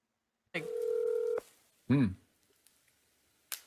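Telephone tones from a phone call: a sustained electronic dial tone, then a short warbling tone burst, followed by quiet clicks and a final brief blip.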